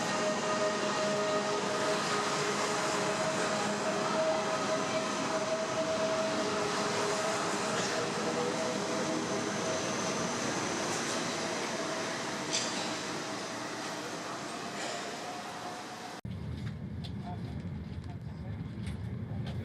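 Steady interior rumble and hiss of an Intercity Europe high-speed train travelling from Brussels to Cologne, a continuous loud wash with a faint whine. It drops abruptly to a quieter, lower hum near the end.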